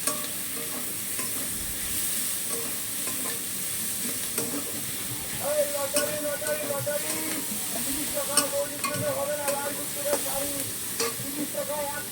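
Magur fish curry with spices fries in a pan, a steady sizzle under repeated scraping and clacking of a spatula stirring it, close and rhythmic, with no speech.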